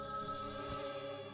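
A telephone rings in the South Park: The Stick of Truth video game, a steady electronic trill sounding alone for a brief moment at moderate loudness.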